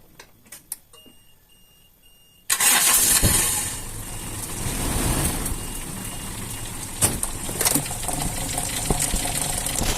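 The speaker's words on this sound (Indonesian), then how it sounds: "Bentar, saya starter." A Toyota Kijang 7K car engine cranks and catches after a few faint clicks, then settles into a loud, close, uneven idle with occasional knocks.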